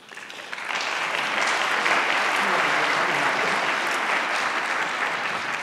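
An audience claps at an opening conference keynote, a dense, steady wave of applause that swells quickly and holds loud throughout.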